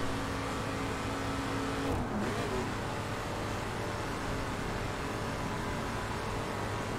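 A car cruising along Route 66 in The Crew, with a steady, even engine drone and road noise holding at moderate level, a brief dip in tone around the midpoint, and no talking.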